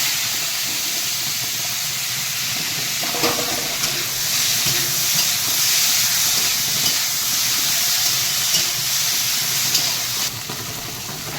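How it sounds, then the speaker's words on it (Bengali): Salted shrimp fry in a very hot wok, giving a loud, continuous sizzling hiss that holds steady throughout, with no one talking. "চিংড়ি মাছগুলো মানে ভেজে নিচ্ছি"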